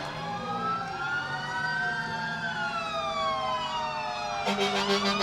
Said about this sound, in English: The Merrimac Tower Truck.